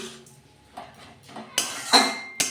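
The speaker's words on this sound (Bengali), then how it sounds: "চিনিটা দিয়ে আমি ভালোভাবে নেড়ে ফেলে শাকটা মিশিয়ে দিচ্ছি" Metal utensil clinks and scrapes against a pan while water spinach greens are stirred with sugar, a few sparse knocks building to louder rattling clatters near the end.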